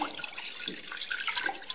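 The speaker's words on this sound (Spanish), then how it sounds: "el vaso de caldo Añadimos el vaso de agua" Broth poured from a glass into a cooking pot while making a lemon chicken sauce, a close, continuous liquid splash and gurgle that runs steadily for under two seconds with no talk.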